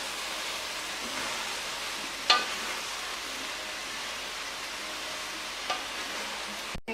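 Boiled rice for nasi goreng being stirred in a hot pan: a steady close sizzle with soft scraping strokes and occasional light clinks of a utensil against the pan, running for several seconds.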